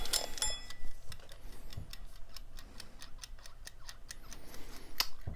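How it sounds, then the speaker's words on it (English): A clock timer set for a crochet work session ticks steadily, sharp evenly spaced clicks about every quarter second, fairly close and clear over a faint room background. "Let's set the timer for 20 minutes."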